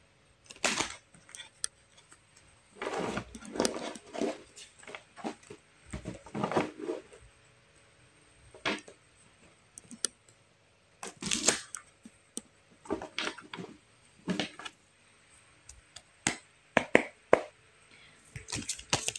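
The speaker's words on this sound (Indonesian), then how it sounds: "kocok dulu kartunya ya untuk pesan-pesan berikutnya" Tarot cards being shuffled by hand: bursts of crisp riffling and snapping card slaps in uneven clusters, close and fairly loud, separated by short quiet gaps.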